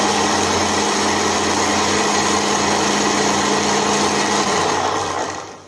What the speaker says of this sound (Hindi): इसको हम डालेंगे इस डब्बी में ग्राइंडर की और इसे पीस लेंगे